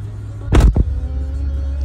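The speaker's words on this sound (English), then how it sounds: "No need to slam the door" Car door slammed shut from inside a car, one sharp heavy thud followed by a quick second knock, close and loud over a low engine rumble.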